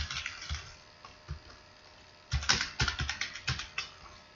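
Quick bursts of clicky typing on a computer keyboard while a company name is entered in Tally ERP 9 accounting software, scattered taps at first, then a dense, fast run of keystrokes, close and clear, with no voices.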